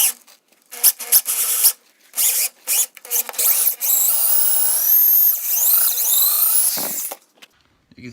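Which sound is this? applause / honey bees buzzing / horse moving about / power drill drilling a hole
power drill drilling a hole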